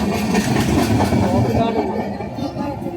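A large train rolls through Chennai Egmore station, a loud rumbling clatter of wheels and cars close by that eases slightly toward the end, with faint voices in the background.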